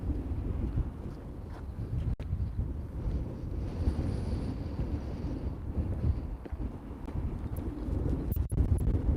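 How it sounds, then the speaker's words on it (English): Heavy wind buffets a microphone, a continuous low rumbling roar with gusty fluctuations and occasional sharp knocks, no voices. "it is very, very windy"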